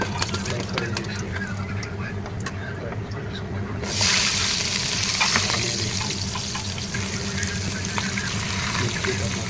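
Chicken biryani masala frying in a pan, a steady close sizzle that swells louder partway through, with stirring and a low background hum throughout.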